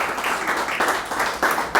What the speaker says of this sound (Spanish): ¿Cuántos tienen un aplauso al Señor por esta hermosa palabra?